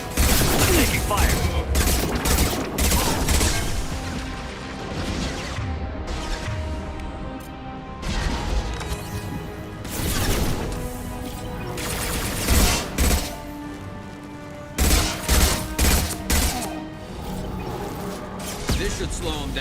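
Heavy gunfire in the video game Mass Effect 2, with dense bursts of shots and impacts in repeated volleys separated by brief lulls, loud and close, and some voices mixed into the fighting.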